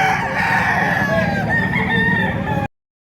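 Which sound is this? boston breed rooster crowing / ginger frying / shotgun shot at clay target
boston breed rooster crowing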